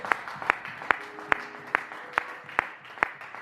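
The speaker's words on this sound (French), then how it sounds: "lorsqu'on acclame Jésus, on acclame très fort." A church congregation claps in a steady rhythmic beat, about one clap every half second, loud and near, with faint murmuring underneath.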